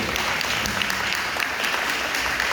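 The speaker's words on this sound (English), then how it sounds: "Give Glenn a round of applause." A crowd at a community council meeting for a NYPD precinct in Brooklyn applauds steadily and continuously, a dense wash of clapping with no talk over it.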